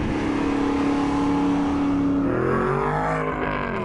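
An Aston Martin sports car engine revs hard and loud, its tone climbing and then shifting as the revs change, close by with no talk.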